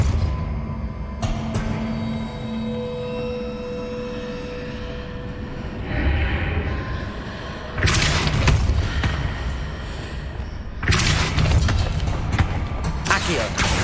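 Depulso spell in Hogwarts Legacy shoving a heavy stone pillar aside: a low rumbling, grinding rush with two loud broadband bursts over constant background game music and ambience.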